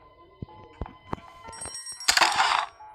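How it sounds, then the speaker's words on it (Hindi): Ringing bell in the horror video game Granny Chapter 2, a cluster of bright metallic strikes that build into a loud, sustained ringing burst at the end, with a few softer tones and clicks leading in. "ग्रैनी रिस्पॉन हो चुके हैं, बेल बज चुकी है।"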